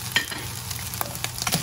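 Stir-fried ingredients for shrimp balls with pine nuts and corn sizzle in a pan, a dense steady frying hiss with scattered sharp crackles and spatula scrapes, close and alone.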